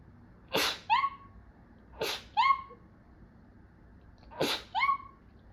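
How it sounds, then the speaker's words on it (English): Three sharp sneezes spaced a couple of seconds apart, each a quick breathy burst followed by a high, tonal vocal squeak, close to the microphone. "I'm very sorry if I sneeze"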